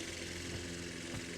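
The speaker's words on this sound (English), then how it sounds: "Nice Saturday afternoon, mowing the grass." A lawn mower engine idles and drones steadily on a Saturday afternoon of mowing grass, a faint, even hum with a couple of brief low surges.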